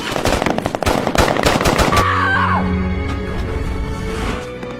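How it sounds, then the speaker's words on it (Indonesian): Rapid bursts of automatic gunfire from a film firefight crackle loud and close for about two seconds, then give way to a lower sustained tone. "Dua orang termasuk Lukas tumbang dalam baku tembak tersebut"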